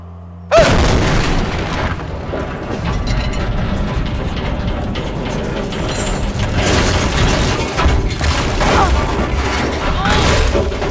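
Explosion fired after a countdown in the video game Amnesia Rebirth: a sudden loud boom, then a sustained, heavy rumble with crackling debris that stays loud to the end.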